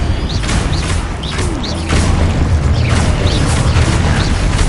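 Expulso spell explosions in a Harry Potter spell-casting game, a loud, close, continuous barrage of booming bursts layered with other spell effects, with no pause across the whole stretch.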